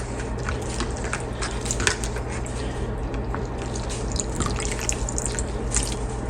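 Cut bitter gourd (karela) pieces are washed in a bowl of water, giving steady close sloshing, dripping and squishing sounds throughout without talk.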